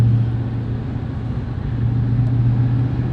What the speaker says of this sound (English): You got to see the car run. You got to see some acceleration. You got to hear the car.